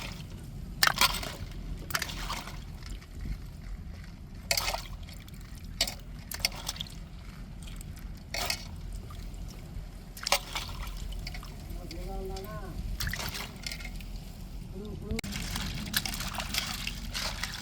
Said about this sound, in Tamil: இப்போ நல்லா அலசி எடுத்துக்கிடுவோம் தண்ணியில்.